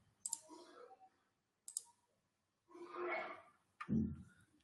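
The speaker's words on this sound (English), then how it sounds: "let's click on here" A computer mouse clicks a few times, with sharp, quiet taps spaced apart and some soft rustling and desk handling noise in a quiet room.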